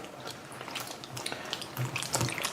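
Produce swished around in a bowl of vinegar water for cleaning, giving a continuous close, soft sloshing and trickling with small splashes, steady throughout with no voices.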